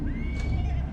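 A horse in a movie scene set at a horse jail neighs in one rising, wavering whinny over a low rumble of background noise, close and fairly loud throughout the brief moment.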